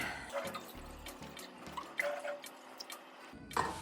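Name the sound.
water added to cold brew keg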